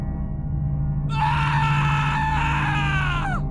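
A man's scream rings out in a Hindi horror story set in a haunted mansion, a loud, sustained, high-pitched cry that starts abruptly, holds for a couple of seconds and bends downward at the end over a low steady hum.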